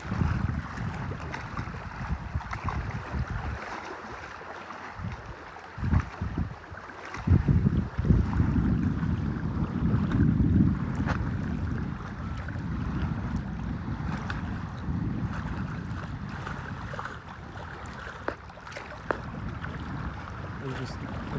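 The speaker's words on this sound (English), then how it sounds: "Splashing up against the rocks." Gentle waves wash and splash against shoreline rocks in a soft, continuous rhythm, with a breezy open-water background and occasional louder surges.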